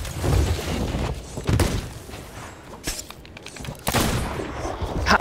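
Sniper rifle shots in a multiplayer shooter game, several sharp loud cracks with booming tails spread across a few seconds over continuous background game noise.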